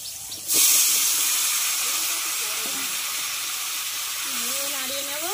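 Vegetables dropped into hot tempered oil in a kadai, a sudden loud sizzle that holds steady as a continuous hiss, with faint stirring or voice-like tones underneath toward the end.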